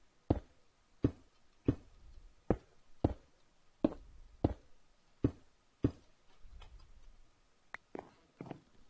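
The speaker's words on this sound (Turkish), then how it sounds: "Adam kapıyı kırmış." Repeated sharp hits as a door is broken in Minecraft SkyWars, about one every 0.7 seconds in an even rhythm, then a few scattered strikes at the end, heard alone at moderate loudness.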